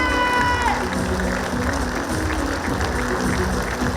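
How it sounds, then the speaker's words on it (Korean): A large crowd at the Gangwon Special Self-Governing Province launch ceremony applauds as the president departs, dense sustained clapping filling the hall, with voices and brief cheering mixed in. "모두 자리에서 일어나서 박수로 환송해 주시기 바랍니다."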